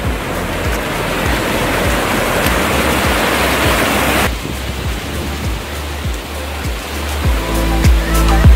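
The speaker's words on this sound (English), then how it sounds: "There is a small snout from where water is coming out." Meltwater gushes out from the snout of a big ice wall, a loud, close, continuous rushing roar that shifts slightly in tone partway through but never lets up.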